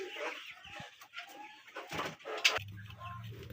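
Australian doves kept for sale make soft, scattered calls, ending in a low, sustained coo that sounds close and fairly quiet.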